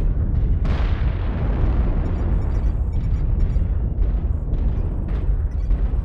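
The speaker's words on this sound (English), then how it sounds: "Artillery strike online." Artillery strike explosions in the MechWarrior Online video game: a sharp blast near the start leads into a dense, continuous rumble of booms and bursts that stays loud throughout.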